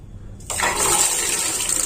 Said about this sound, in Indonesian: keran air ini saya buka,